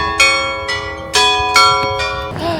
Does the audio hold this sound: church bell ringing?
yes